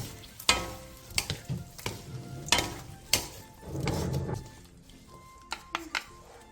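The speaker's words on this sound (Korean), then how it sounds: "건새우 3분의 2컵, 올리고당 1스푼, 매실액 반스푼, 들기름 반스푼, 통깨를 넣고 1, 2분 정도 가볍게 볶아 마무리해주세요" Dried shrimp is lightly stir-fried with garlic scapes, perilla oil, oligosaccharide syrup, plum extract and sesame seeds. A spatula knocks and scrapes at the pan in sparse, quiet taps, with a brief soft sizzle midway.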